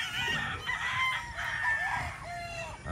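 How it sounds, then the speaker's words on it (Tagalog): A rooster crows close by in a Philippine farmyard, one strong drawn-out call filling most of the three seconds, with a few clucks and low background noise. "Guwapong manok."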